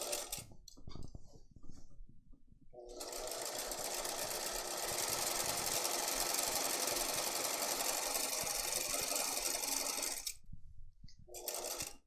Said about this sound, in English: we're going to sew all the way across here.